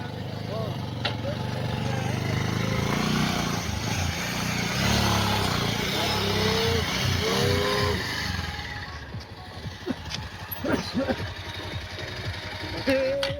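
Motorcycle engine running close by at a hidden viewpoint in Bhimad, Nepal, a steady low rumble for most of the clip that eases off near the end, with people talking over it.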